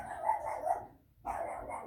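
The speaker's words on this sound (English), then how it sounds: "Oh, and my dog Lulu agrees. Not quite sure why she's going crazy out there" A dog barking outdoors, heard indoors through a wall: a quick burst of muffled barks, a brief pause, then another run of barks.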